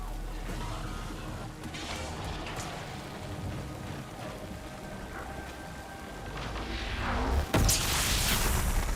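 Thunder from lightning in the video game Marathon: a steady rain-like hiss swells over the last few seconds into one loud, sharp crack near the end, with no talking.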